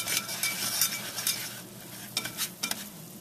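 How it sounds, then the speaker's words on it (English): Flour is stirred into melted butter in a pan for scalloped potatoes, producing a steady soft sizzle with quick scraping strokes that come in short bursts. "We're going to go ahead and add the flour slowly here, and we're going to blend that all together"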